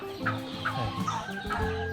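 Chickens cluck in a small backyard farm, with several short, steady clucks from nearby hens in a brief run and no talking.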